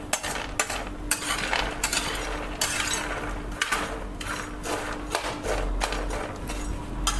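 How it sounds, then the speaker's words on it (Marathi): Sweet potato chivda with raisins and powdered sugar being stirred and tossed in a bowl, a steady crisp rustling and scraping with light clinks, close and continuous with no talk. "आधी तर आपल्याला हा सर्व एकत्र असा मिक्स करून घ्यायचा आहे।"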